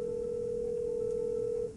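A computer softphone call placed to a mobile phone through Office Communicator produces a steady, faint dial tone that holds for nearly two seconds before it cuts off.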